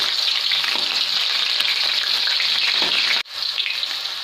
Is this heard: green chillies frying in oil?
yes